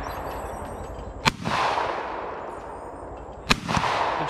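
Two sharp shotgun blasts, a couple of seconds apart, ring out at an outdoor sporting clays shoot, each a loud crack over steady wind and background noise.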